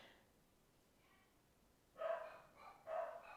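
Dogs bark in two short, fairly faint bursts about a second apart. They sound somewhat distant against a quiet background.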